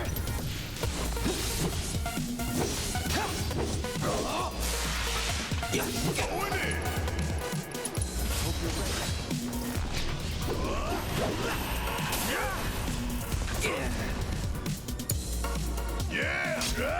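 Repeated melee strikes in Final Fantasy VII Remake land in rapid succession, heavy smashing thwacks and swooshes mixed with battle effects under a player's ongoing commentary.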